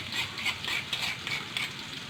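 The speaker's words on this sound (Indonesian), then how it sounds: "Kita masukin bumbunya. Kita goreng bumbunya." Spice paste frying in a hot pan for a Dayak sour grated fish dish, a steady close sizzle with soft stirring scrapes running throughout, no talking.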